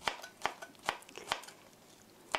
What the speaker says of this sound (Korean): 2 클로브스 갈릭 마늘 2쪽도 이렇게 칼을 얹으시고 체중을 실어서 꼭 눌러주세요. 이렇게 해서 찹스.